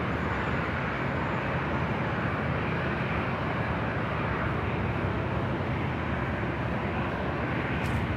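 A heavy jet rolls down runway 24 left for takeoff at LAX, a steady broad far-off engine roar that holds level throughout with no voices.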